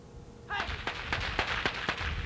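Gunshots crack out sharply, five or six in quick, uneven succession, close by over a noisy background, during protection dog training.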